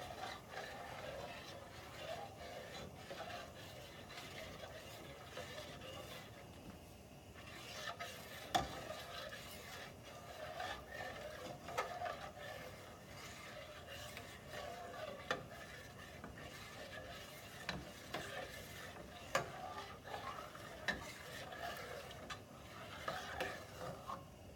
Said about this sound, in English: you want to just stay here the whole time and stir this.